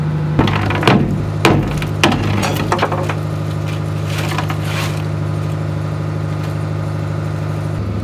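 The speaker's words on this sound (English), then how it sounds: "I have been smashing rust for about 10 seconds." Hammer blows knocking rust off the steel wheelhouse of a Dutch fishing trawler, several sharp metallic impacts in the first few seconds, then fewer, over a steady engine-like drone.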